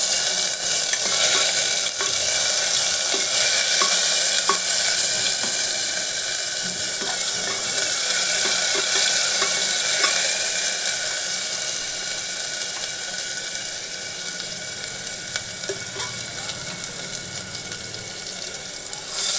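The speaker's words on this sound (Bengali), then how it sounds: "রসুনটা একটুখানি ভেজে নিয়ে" Garlic frying in oil for moong dal khichuri, a loud, steady close sizzle with scraping stirs throughout, fading slightly toward the end, no voices.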